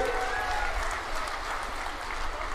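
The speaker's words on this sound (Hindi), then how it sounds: "सब ताली बजाओ बाबा के लिए" Crowd at an outdoor political rally in Jhajjar, Rohtak, clapping steadily in a broad, even wash of applause, heard from a distance and held at a moderate level throughout.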